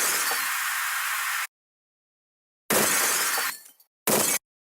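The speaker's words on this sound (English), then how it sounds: "that's some glass break sound I stole from my friend" Three separate bursts of breaking glass, each a loud, bright crash with a glittering tail, the second trailing off in scattered shards, with dead silence between them.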